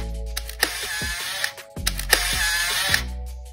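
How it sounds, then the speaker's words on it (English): A Canon MC point-and-shoot film camera fires its shutter and motor-winds the film, giving two close, sharp mechanical whirring bursts in a quiet room. "At least you can delay the winding sound by holding the shutter button down."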